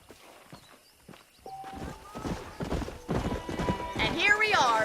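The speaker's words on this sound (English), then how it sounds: "The horses are saddled up over here." Hooves clip-clop on the ground as horses walk in the Western game Red Dead Redemption, the steps growing louder and denser over a few seconds, with a whinny near the end and someone talking over it.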